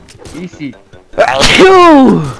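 A loud, close sneeze bursts out right after a brief spoken word, sharp at the onset and trailing into a long, strained tail during a gaming session.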